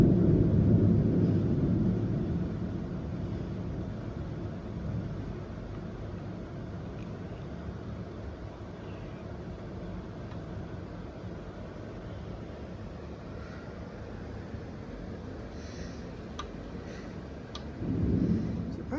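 Thunder during a tropical storm in Shanghai: a deep rolling rumble swells at the start, fades into a long hiss of rain, then another low boom returns near the end.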